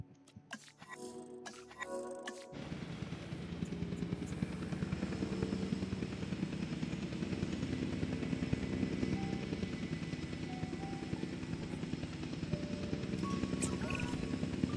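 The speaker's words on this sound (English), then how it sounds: "Transport helicopter en route." A transport helicopter in the dinosaur park game Jurassic World Evolution 2 flies with a steady, dense rotor and engine drone that holds at an even level, after a few seconds of clicks and brief sounds at the start.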